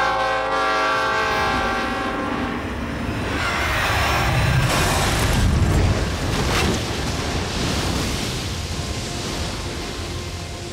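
A train nears a railroad crossing in Abilene, its horn blaring loudly in long tones over the heavy rumble and clatter of rolling cars, swelling as it passes close by.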